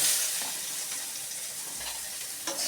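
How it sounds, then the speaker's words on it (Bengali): Squeezed soybean chunks fry in hot oil, giving a continuous broadband hiss and sizzle, close and fairly loud, with no voice. "এবার আমি সয়াবিনগুলো দিয়ে দেবো, দিয়ে ভেজে তুলব।"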